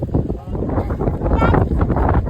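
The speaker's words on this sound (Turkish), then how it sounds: "Ay rüzgar çok var burada." Strong wind buffets the microphone in loud, continuous gusts at a lavender garden, with voices faintly mixed in beneath the blustering.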